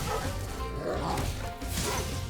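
Cartoon dogs bark in the Spyro platform game, short gruff yaps mixed into busy, noisy game action with thuds and whooshes, loud and close for a couple of seconds.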